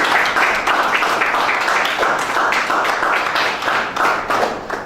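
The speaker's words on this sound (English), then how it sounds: "A round of applause, Miss Elvin." Sustained applause from a debate audience, dense and steady clapping that holds at an even level throughout with no voices on top.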